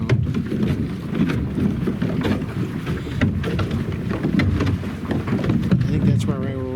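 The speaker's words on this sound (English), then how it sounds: "You hear us bouncing off ice," A boat hull knocks and bounces against ice in Greenland waters, irregular thuds and scrapes under wind buffeting and engine rumble, with people talking over it.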